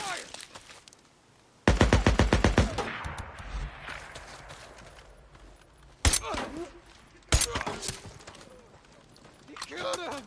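Automatic gunfire in Days Gone during a survival challenge, with a loud rapid burst of shots followed by sharp single blasts and scattered impacts, heard over ongoing game noise.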